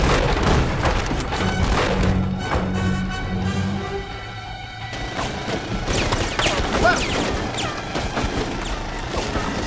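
A grenade blast in the combat game Full Spectrum Warrior, booming and crashing with heavy thuds and debris, loud and sustained amid ongoing battle noise and gunfire.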